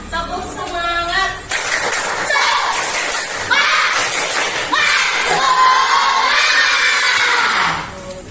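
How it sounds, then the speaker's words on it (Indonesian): A class of schoolchildren chants and claps the 'tepuk semangat' routine in a classroom, loud and close, with shouted rhythmic voices and bursts of clapping that carry on for several seconds. "Coba guru mau tepuk semangat dulu."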